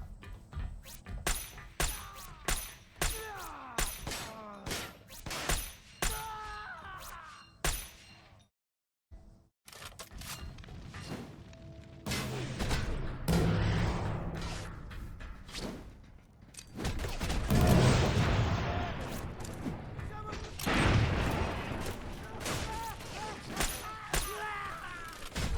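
Explosions and gunfire in the Xbox 360 game Crackdown 2: rapid cracking shots and clinks, a short silent gap, then heavier rumbling blasts and debris, loud and dense throughout.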